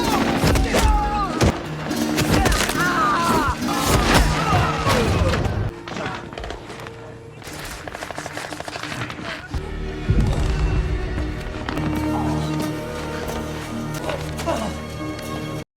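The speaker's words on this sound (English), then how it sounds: "gunfire erupts throughout the compound" Gunfire and impacts during an armed attack on a compound in an action film, irregular bursts of thuds and cracks mixed with music and effects, with a narrating voice talking over much of it.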